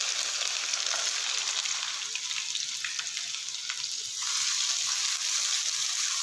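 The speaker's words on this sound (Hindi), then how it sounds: "ऑयल गर्म हो चुका है, अभी शामिल करेंगे इसमें प्याज" Onions sizzle in hot oil in a kadhai, a steady, bright frying hiss that carries on throughout with faint stirring ticks.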